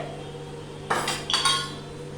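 Dishes and cutlery clink briefly and close by while chole biryani is plated, two quick metallic knocks in an otherwise quiet kitchen.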